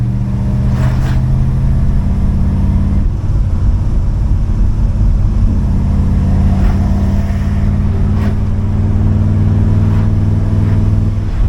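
A low-geared car's engine drones steadily while driving on a hot day, a loud, constant low rumble with faint rattles and no speech.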